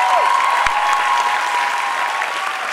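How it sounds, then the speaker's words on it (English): A show audience at a Shiamak Davar Summer Funk Show bursts into dense, loud applause that holds steady from start to finish. "I think he deserves a round of applause for that."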